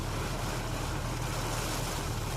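Large sea waves in heavy rain at Muscat come through as a dense, unbroken roar of surf and rain, with steady wind rumble and no clear break throughout.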